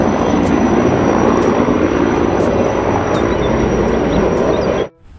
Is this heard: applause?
no